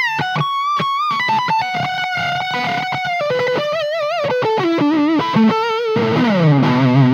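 A PRS CE 24 Bolt-On electric guitar played through its neck pickup, a distorted, chorus-tinged lead line of sustained bending notes and fast runs, loud and close with no talking.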